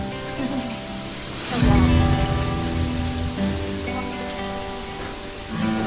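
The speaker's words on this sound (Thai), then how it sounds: "นี่คือฝนที่ตกนะ" Rain falls steadily outdoors at a scenic riverside restaurant in Nong Khai, as a continuous wash of drops with a low rumble. Faint background sounds sit underneath, and a voice speaks briefly.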